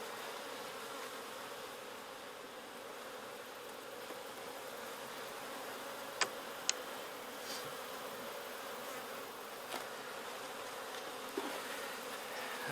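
Honeybees in an opened, requeened hive hum in a steady, faint, even drone during a winter check of the frames, with a few sharp ticks breaking through.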